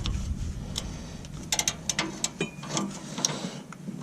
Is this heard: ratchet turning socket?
yes